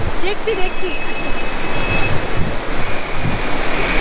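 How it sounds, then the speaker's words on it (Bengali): Waterfall in the hills of Lava, Kalimpong: a loud, steady roar of rushing water that fills the whole moment, with a few brief bird chirps near the start. "এটা হচ্ছে সেই ঝর্ণাটা যেটা পাপড় খেতির এখানে"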